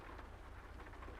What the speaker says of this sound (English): the rain is too heavy and the wipers are unable to keep up